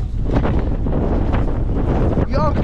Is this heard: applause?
no